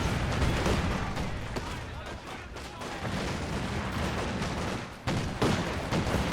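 Sustained gunfire and explosions in a competitive strategy game match as a squad takes fire from a Schwer HQ, dense crackling bursts and booms running continuously with a caster talking over them throughout.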